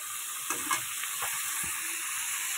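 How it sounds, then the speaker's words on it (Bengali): Prawns fry in hot oil in a pan, an even, bright sizzling hiss that runs throughout with a couple of faint knocks and scrapes, close up and with no speech. "এই যে সুন্দরভাবে ভাজতে হবে চিংড়ি মাছগুলো"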